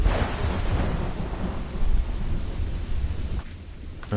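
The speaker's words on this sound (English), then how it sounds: "The thunderstorm came in at like the right moment" In Assassin's Creed Black Flag, a thunderstorm rolls on with steady heavy rain and deep rumbling thunder that swells and fades, filling the scene with dense, noisy wash.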